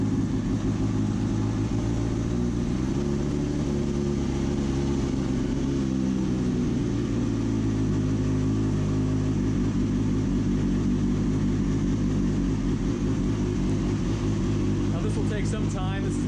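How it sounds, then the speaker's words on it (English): A Kawasaki Ninja motorcycle engine idles steadily throughout, a continuous low rumble with a constant even tone, close up and fairly loud, as it runs to circulate coolant during a coolant flush. "you want to start the motorcycle"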